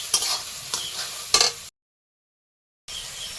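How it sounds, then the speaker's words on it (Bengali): Ground cumin and coriander spice paste is stirred and fried in a pan, with soft sizzling and a few scraping stirs close by, then a sudden stretch of silence before the sizzle returns. "মশলাটা এবার ভালো করে কষিয়ে নেব"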